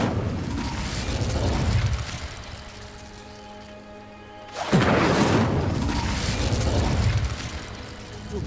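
A fire spell ignites dry vines in a fantasy wizarding game, a sudden loud whooshing burst of flame that swells and roars for several seconds after a quieter stretch.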